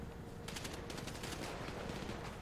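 Rapid automatic gunfire during a GTA roleplay shootout in a favela, a rattling machine-gun burst of quick repeated shots, moderately distant and continuous over a busy background.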